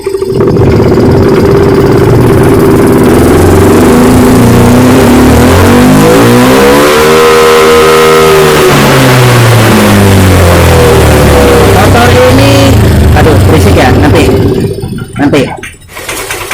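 A Yamaha Mio 125 fuel-injected motorcycle engine with an error code 28 fault revs loudly and close up, pitch climbing and then falling back down before the throttle drops off near the end.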